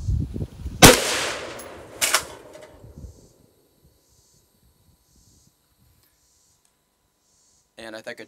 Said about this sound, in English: First two shots is really just to test the chronographer.